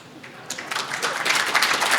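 Audience clapping swells from quiet to a steady, dense round of applause that continues to the end.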